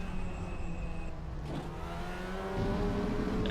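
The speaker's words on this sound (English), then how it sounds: "Hard braking." Audi WTCR touring car braking hard in a racing video game at the Malaysia race, engine note dropping and whining down, then rising again as it turns in, with a steady motor drone throughout.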